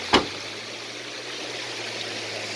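A clear mountain stream flows at a hidden spot in Khyber Pakhtunkhwa, Pakistan, giving a steady close rushing wash of water after a brief sharp knock at the start.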